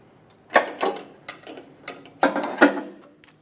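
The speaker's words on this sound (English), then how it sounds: "Using a 22mm wrench, torque it down to 50 foot-pounds." A 22mm wrench tightens a catalytic converter bolt on a 2007-2012 Nissan Altima, giving several sharp metallic ratcheting clicks in irregular bursts, close and clear with no voices.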